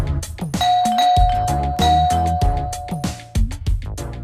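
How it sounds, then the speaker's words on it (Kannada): A doorbell rings in a home, its sustained electronic tone sounding loud and close over a busy musical background. "ಯಾರು ಈಗ ಬೆಲ್ ಮಾಡ್ತಿರೋದು?"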